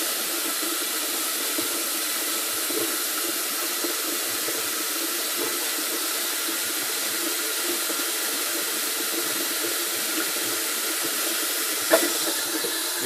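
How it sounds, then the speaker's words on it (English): Hot water pours steadily from a tap while a hookah base is being filled for cleaning, a constant even hiss and rush lasting throughout with one small knock near the end, no voices. "Filling up the hot water"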